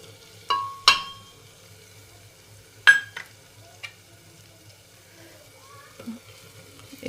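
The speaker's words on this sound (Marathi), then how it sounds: "बेसन पण 1 मिनिट फ्राय होऊ देणार आहे." Gram flour frying in a little oil in a pan, with sharp clinks of a spoon against the pan over a faint, low background sizzle.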